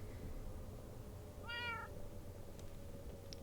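A Minecraft cat gives a single short meow partway through, clear over a steady low game background hum, with a few faint blips after it.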